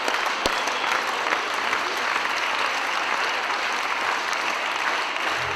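Loud, sustained audience applause at an anniversary concert for a songwriter, dense and even throughout with one sharp clap standing out near the start.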